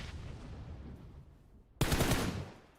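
Burst of loud gunfire in a PUBG Mobile esports match erupts suddenly after a quieter stretch of low rumble, dense and sharp, then tapering off.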